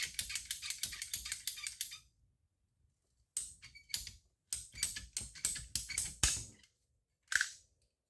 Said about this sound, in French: avec ma petite pince, je coupe.